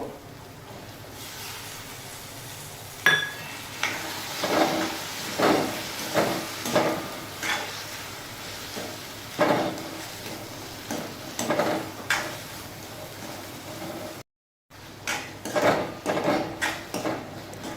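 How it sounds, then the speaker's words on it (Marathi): Peas and chopped tomato are sautéed in a pan, heard as a series of rhythmic metal spatula scrapes and clinks against the pan over a faint, low sizzle, with a short silent gap near the end. "वाटाणे आपण आता परतून घेऊ"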